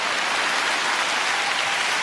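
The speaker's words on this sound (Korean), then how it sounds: "박수 쳐야 되는 거 아니요?" A congregation at a prayer meeting claps together in a dense, continuous roar of applause that stays loud and even for the whole stretch, with no voices rising above it.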